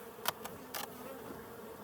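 Honey bees buzzing inside an opened, tilted beehive in Colorado, a steady close drone with a few brief louder passes of individual bees.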